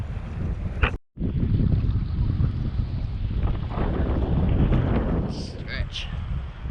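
A strong headwind buffets the microphone continuously while sea kayaking off Kangaroo Island, a loud steady roar with one brief dropout and faint voices underneath.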